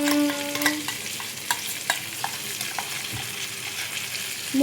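Brinjal fry sizzles steadily in a pan while spice powder is stirred in, with repeated scraping clinks of the spoon against the vessel over a continuous frying hiss; close and fairly loud, with no talking.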